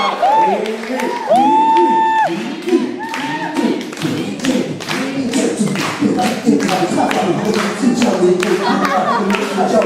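An audience at a live stage show claps along in quick, loud rhythmic bursts. A strong voice rings out over the start, and the applause continues to the end.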